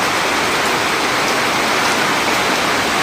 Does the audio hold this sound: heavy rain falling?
yes